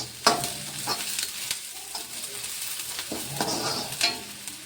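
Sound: onions and green chillies frying in oil

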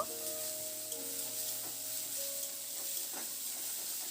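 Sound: chopped onion and garlic frying and stirred

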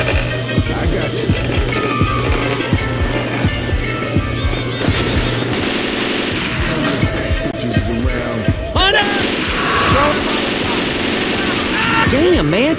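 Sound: gunfire in video game Dark Carnival

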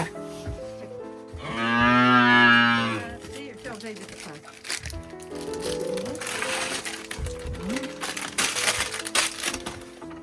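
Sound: cow

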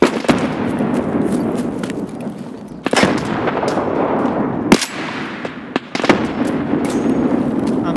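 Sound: grenade explosions and gunfire in Escape From Tarkov video game

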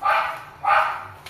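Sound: neighbour's dog barking

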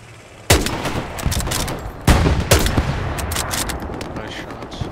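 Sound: gunfire from video game Hell Let Loose

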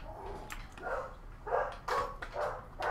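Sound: dog barking in the basement

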